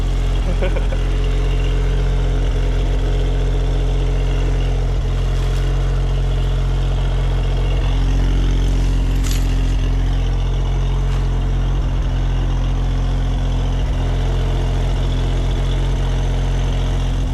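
A Suzuki Cara (Autozam AZ-1) engine idles steadily after intake manifold, fuel rail and injector work, a low continuous drone that stays even throughout, with a person talking over it now and then.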